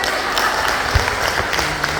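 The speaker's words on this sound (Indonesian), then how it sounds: "Nah sekarang ya sok asa-asa tepuk tangan deh." Applause from an audience at a public speaking seminar, a steady wash of clapping filling the room at moderate loudness, with no voices standing out.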